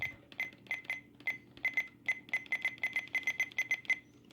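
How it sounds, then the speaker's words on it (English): An Oregon Scientific WR608 weather radio gives a rapid series of short, sharp electronic button beeps, about twenty in quick uneven succession, close and crisp with no talk. "we're doing the button beeps on the Oregon Scientific WR608"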